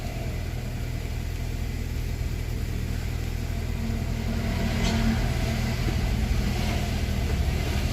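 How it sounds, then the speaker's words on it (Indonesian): A Honda Jazz engine running at low RPM with a faulty idle air control valve gives a steady, low, muffled rumble. The tone stays fairly even throughout, with no one talking. "ketika dipakai atau dijalankan mobilnya itu di RPM rendah itu mengayun atau nyendat"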